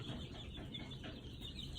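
Newly arrived baby chicks kept with young turkeys and ducks, a continuous busy chorus of peeping and clucking from many birds close by, with no talking.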